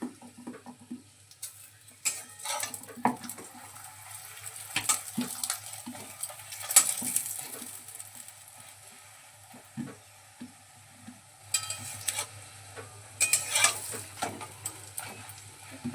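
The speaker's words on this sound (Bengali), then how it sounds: "এবারে আমরা কিছুটা পরিমাণে তেল দিয়ে পরোটাটা ভেজে নেব।" A paratha fried in oil in a kadai pan crackles with intermittent sizzles, clinking and scraping of a utensil in irregular bursts, close by and moderately loud with quiet stretches between.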